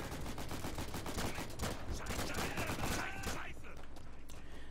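Dense gunfire crackles in the World War II shooter game Day of Infamy, rapid overlapping rifle and machine-gun shots filling a busy battlefield, with voices talking under the din.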